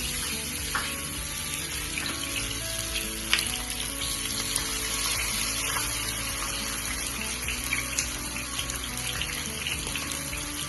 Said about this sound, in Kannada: ಎಣ್ಣೆ ಕಾದ್ಮೇಲೆ ಫಿಶ್ ಹಾಕೋಣ.